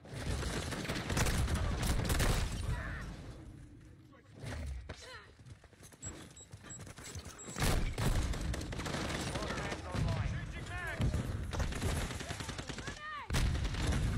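Shotgun blasts ring out in a video game as sharp, booming shots, some in quick pairs, scattered through the clip amid a player's excited chatter.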